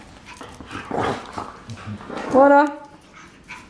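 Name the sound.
dogs panting and barking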